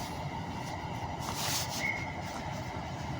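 A train pulls into Birmingham International station with a low, steady rumble and faint rail hiss. A brief high squeal is heard partway through, at moderate distance.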